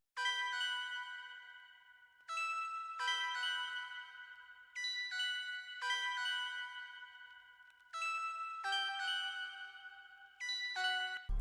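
Synth melody built in FL Studio from an Analog Lab 5 Double Lute patch with reverb, bright plucked bell-like notes in short halftime phrases separated by brief gaps, clean and alone.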